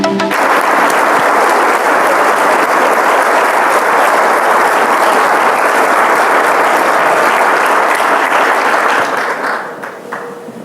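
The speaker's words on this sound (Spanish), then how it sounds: "Recibamos con un gran aplauso al reconocido historiador, Enrique Krause." Sustained, loud applause from a seated audience greeting a historian at a book presentation, steady for about nine seconds before thinning out near the end.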